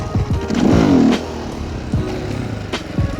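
A supermoto motorcycle engine revs up loudly and close while the bike lifts into a wheelie and scrapes, the pitch climbing briefly then settling into a steady drone with a few sharp clattering bursts.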